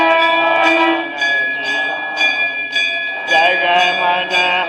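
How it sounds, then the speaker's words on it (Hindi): A temple bell rings during aarti at Shree Baba Haidakhan, Chiliyanaula, on the ninth day of the Ashwin Navratri Devi Bhagwat, struck repeatedly in a steady rhythm, its bright sustained tones layered over chanting voices. "बजाओ घंटी।"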